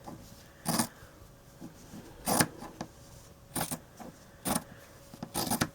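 Scissors snip through fabric for a craft-fair hat project, giving several short crisp cutting bursts in an uneven rhythm, close and clear over quiet background.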